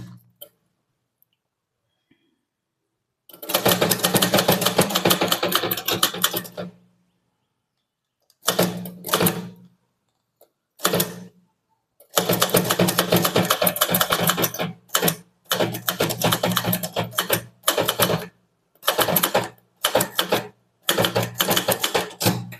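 Manual typewriter keys striking in rapid bursts during a Tamil junior English typewriting lesson on a statement exercise, with dense clattering runs separated by short pauses and a few isolated keystrokes, close and loud, no talk.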